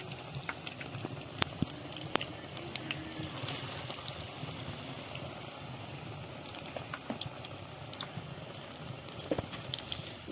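Chops made from tender raw papaya frying slowly in oil over low heat, a faint continuous bubbling sizzle with scattered tiny pops and crackles, steady and close, no talk.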